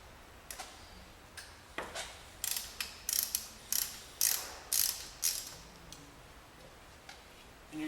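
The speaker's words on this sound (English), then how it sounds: "we're going to remove the drain plug, which is located here on the driver's side of the vehicle" A ratchet with a 19mm socket loosens the oil drain plug on an Audi Allroad 2.7T, a series of sharp clicking bursts in an uneven rhythm, close and clear, followed by a quick spin of rapid ticks.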